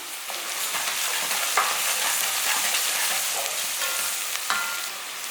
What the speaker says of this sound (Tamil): நான் பாதி அளவுக்கு தான் வதக்க போகிறேன்